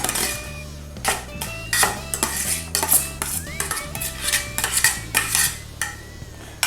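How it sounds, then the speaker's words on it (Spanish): A utensil stirs chopped onion and shrimp in lime juice for ceviche, clinking steadily and rhythmically against a bowl, with close, repeated metallic taps and scrapes throughout. "revolvemos la cebolla, los langostinos con el limón, que quede todo bien revueltito"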